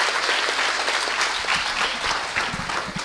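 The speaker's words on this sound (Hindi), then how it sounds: "वाह भाई वाह, जोरदार ताली बजाओ भाई।" Loud applause at a student entrepreneurship event, with many hands clapping in a thick, steady patter and scattered sharper claps standing out near the end.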